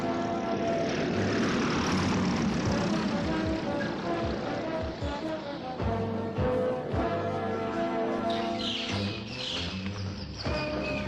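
Propeller-driven rescue planes drone overhead in a thick, continuous engine roar that swells and shifts as they pass, with a tonal layer running alongside.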